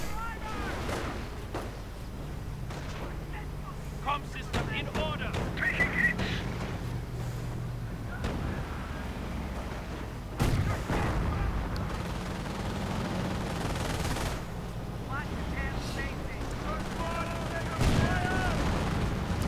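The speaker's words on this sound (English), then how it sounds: "Sniper moving out. Bazooka rockets flying." Bazooka rockets and rifle gunfire from a World War II real-time strategy game, heard as repeated bursts and sharp blasts throughout over low battle rumble, with someone commentating over the action.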